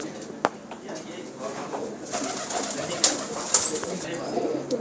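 Tania breed pigeons coo softly at close range, with several calls and some bird noise over a background of low voices and ambient clatter.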